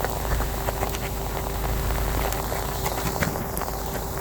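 Hail mixed with rain pours down at the tail end of an Australian winter, a dense, steady patter of drops and ice pellets striking surfaces up close, continuous throughout with no talking.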